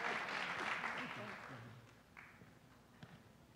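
An audience at an awards ceremony applauds. The crowd clapping is moderately loud at first and fades out over about two seconds, leaving a quiet room with a couple of soft taps.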